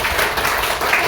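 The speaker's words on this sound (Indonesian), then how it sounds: "Tepuk tangan dulu buat kita semua." Brief burst of classroom applause from a group of participants after a discussion, a dense wash of clapping from start to finish.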